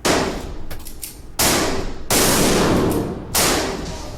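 Gunshots fired in school hallways during an active shooter drill: four loud, sharp blasts spaced unevenly over a few seconds, each followed by a long echoing decay.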